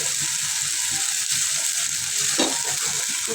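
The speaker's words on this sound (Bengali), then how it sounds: "আদা রসুন আর একটু পেঁয়াজ কাঁচামরিচ দিয়ে কষাইতেছি" Ginger, garlic, onion and green chilies sautéing in a pan, a loud, close, steady sizzle and frying hiss with faint stirring scrapes underneath and one brief louder clatter.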